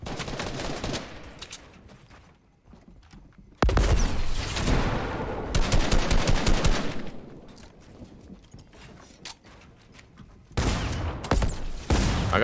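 Gunfire in the Fortnite video game, played on a subway map: loud bursts of rapid shots in several clusters separated by quieter stretches, with the final bursts short and sharp.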